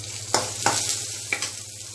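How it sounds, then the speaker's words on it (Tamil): Onions and green chillies sauté in a pan for beans poriyal with a soft, steady sizzle, broken by a few sharp scrapes as a spoon stirs them. "இப்போ வெங்காயம், பச்சை மிளகாய் நல்லா வதங்கிடுச்சு."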